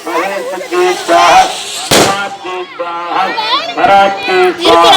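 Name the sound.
firecrackers bursting at temple festival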